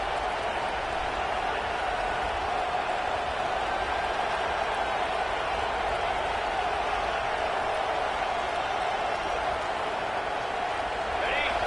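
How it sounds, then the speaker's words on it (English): A video game stadium crowd of Michigan Wolverine fans roars in a dense, steady wall of cheering that holds loud and unbroken, with commentary talk woven underneath. "This crowd, full throat, splitting the eardrums"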